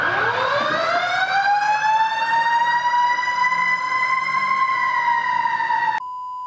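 A loud wailing ambulance siren sweeps upward and holds a steady high tone, then cuts off abruptly, leaving a fainter lingering tone.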